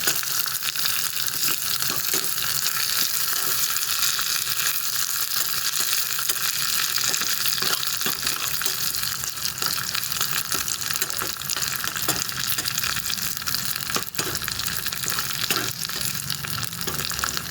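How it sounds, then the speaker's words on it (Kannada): Vitamin soppu greens with salt cooking in hot oil in a pan, a steady, dense sizzle and crackle that holds at an even level throughout with no speech over it. "ಈಗ ಈ ಎಣ್ಣೆಯ ಬಿಸಿಯಲ್ಲಿ ಇದನ್ನು ಬೇಯಲು ಬಿಡುವಂಥದ್ದು"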